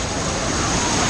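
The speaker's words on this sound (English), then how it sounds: "Oh, these are some pretty strong waves." Strong waves surging in a water park wave pool, a continuous broadband wash of churning water, loud and close for a brief moment with no clear voices.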